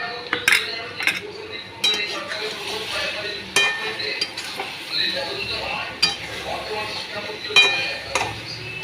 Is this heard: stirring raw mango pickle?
yes